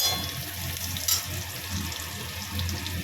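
Tomatoes frying in oil in a pan for a Bengali hilsa fish curry, a soft continuous sizzle with faint crackles and light stirring, fairly quiet and with no speech.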